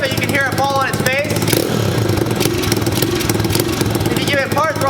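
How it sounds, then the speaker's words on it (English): A cheap used pit bike engine with the choke partly on and a slight exhaust leak runs loud and close, idling roughly then bogging and stumbling as the throttle is opened, with a person's voice over it. "as soon as I go to rev it, you can hear it fall on its face"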